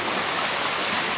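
Ocean waves on a Maui beach in Hawaii wash in as a steady, broad roar of surf, continuous and fairly close with no talk over it.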